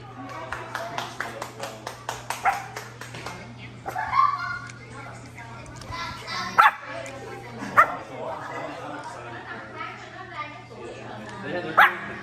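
A small dog yips and barks repeatedly in short bursts, some louder peaks standing out, with people talking throughout and a steady low hum underneath.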